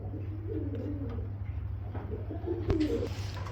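A pair of ice-bar coloured Dhamasi pigeons coos in low, rolling phrases at a bird seller's, with a steady low hum underneath and a brief clatter near the end.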